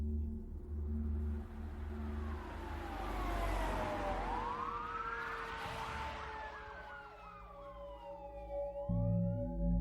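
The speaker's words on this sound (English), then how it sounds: "he heard sirens approaching through the woods" Emergency vehicle sirens wail through the woods, their rising and falling tones sweeping and overlapping as they draw nearer, loud over a steady low rumble of traffic and engine noise, with no talking.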